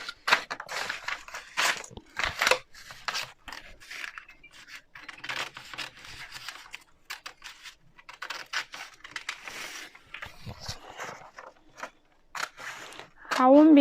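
Scissors snip through fabric for a scrunchie in a run of close, crisp cuts and rustles, with a brief clatter near the end.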